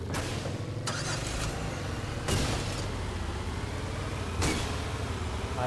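A car engine in the zombie survival video game Infestation New Z rumbles steadily and fairly quietly, with a few sharp bursts of noise breaking through at intervals.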